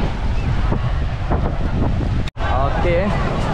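Sea waves surging up a beach at high tide in Dungun, Terengganu, a steady rushing wash with heavy wind buffeting the microphone, and a brief dropout partway through.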